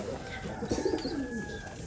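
Domestic pigeons cooing inside a pigeon loft, soft repeated low coos close by against a steady background hum.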